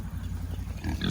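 Pigs grunt and oink close by on a farm, a continuous low snuffling chorus with no talk over it.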